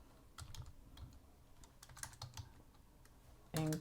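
Soft, irregular clicks of typing on a computer keyboard, scattered keystrokes at close range, ending with a short louder tone.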